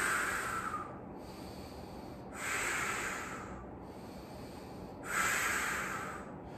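Three slow, audible breaths spaced a few seconds apart, each a soft airy rush swelling and fading, taken during a held side stretch in a functional strength workout, with no talking.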